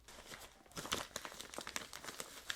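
Parcel packaging being torn open and crinkled while unboxing a book delivery from a publisher, with a run of close, uneven crackling bursts of plastic or paper and no talk.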